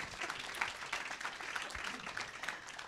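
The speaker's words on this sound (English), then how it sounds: "let's clap quick for all of them" An audience at a panel discussion on Kānaka Maoli self-governance applauds, a faint, steady patter of clapping from a moderate-sized crowd heard at a distance.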